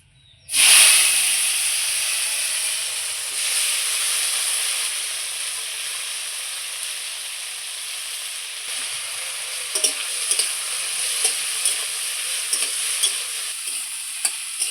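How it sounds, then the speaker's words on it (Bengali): Sliced bitter gourd frying in hot mustard oil, a loud steady sizzle that bursts on as the pieces hit the pan and continues alone, with faint clicks of stirring toward the end. "করলাটা কাটতে কাটতে এইবার আমি করলাগুলো ভেজে নেব।"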